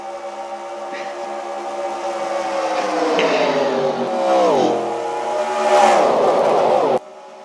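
NASCAR Winston Cup stock cars roar past at Daytona in a steady, loud engine drone that pitches down as the pack sweeps by, with a second car's whine rising near the end.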